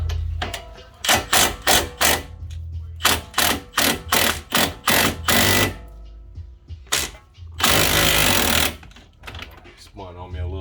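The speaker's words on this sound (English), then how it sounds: "let's remove this bolt first since it's acting funny on me a little bit" An 18 mm bolt on a Dodge Grand Caravan 3.6L front strut is loosened with a power tool, giving repeated short loud ratchety bursts in a regular rhythm, then one longer sustained burst, with a voice talking briefly.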